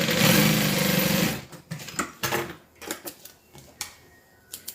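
A sewing machine stitches down fabric for a custom-made piece, running in one steady loud burst that stops, followed by several short separate bursts of stitching.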